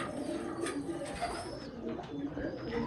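Bankay pigeons coo in a low murmuring rhythm among other birds, the soft repeated coos mixed with faint chirps and light background noise.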